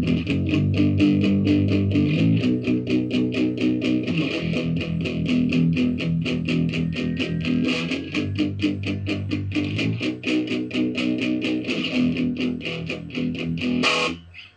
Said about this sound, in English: So guitar one plays this.